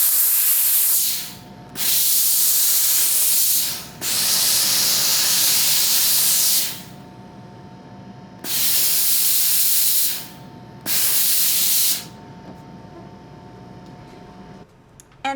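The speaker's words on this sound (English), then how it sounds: "or this one, the steam will get it off" A steam iron used while finishing a cross-stitch piece gives off about five loud bursts of hissing steam, each lasting one to three seconds, separated by short quiet gaps.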